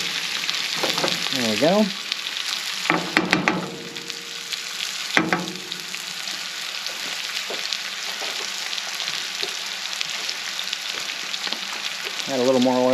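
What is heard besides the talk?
chicken and noodles frying in a pan on the grill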